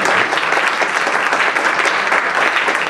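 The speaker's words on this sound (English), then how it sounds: "let's give another round of applause." An audience at a Smithsonian symposium on diversity in library and information science education gives a full round of applause, a thick, even wash of many hands clapping for the whole stretch without talk.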